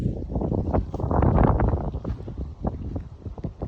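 Strong gusts of wind buffet an outdoor microphone, a loud low rumbling roar that swells and eases with rustling bursts, close and continuous.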